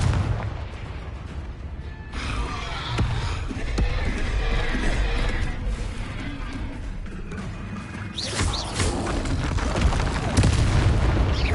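Confringo fire spell blasts in Hogwarts Legacy during combat, a run of loud booming bursts and crackling impacts, irregular and close, with shouting voices in the mix.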